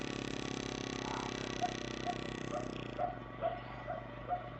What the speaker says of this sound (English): There's that dog again. Don't you hear it?